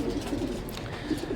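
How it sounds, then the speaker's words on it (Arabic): Racing pigeons cooing in a loft on a race day, a low rolling murmur of several birds that runs steadily through the short moment with no talk over it. "ان شاء الله اليوم راح يصعد الحمام ساعة بالوحدة، ناخذ الحمام للنادي"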